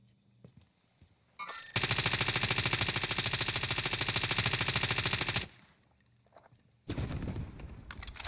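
Fara assault rifle gunfire in Call of Duty Warzone: one loud, sustained automatic burst of about four seconds of rapid, evenly spaced shots, followed by a shorter second burst after a brief pause.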